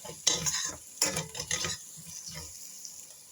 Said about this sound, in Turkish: Tekrar salçanın kokusu çıkıncaya kadar kavuruyorum.